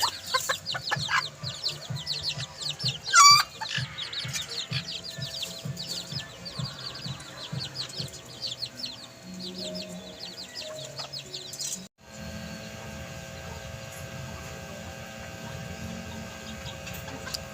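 Rapid high peeping from many small chicks, constant and busy, with occasional clucks and a low hum; the chorus drops off abruptly near the end.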